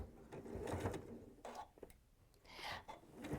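A domestic sewing machine stitching fabric while making a fox soft toy, with several short runs of whirring motor and needle chatter, starting and stopping, close and moderately loud.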